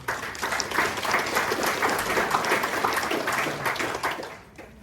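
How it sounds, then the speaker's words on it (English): A room full of people at a candidates' meeting in Morrinsville claps, strong sustained applause with a slightly uneven rhythm that fades out near the end. "I'd just like to have a bit of a round of applause for them too."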